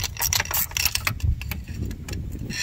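A socket ratchet clicks in quick irregular bursts while threading an aluminum oil filter housing bolt on a 2007 BMW 328i, close and fairly soft, with light metallic handling noise.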